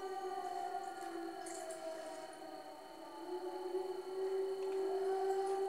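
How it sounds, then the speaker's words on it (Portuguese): A siren in the video game Stray wails steadily in the background with sustained, slowly wavering tones. It is fairly faint and droning and has no speech over it. "Ó, a sirene."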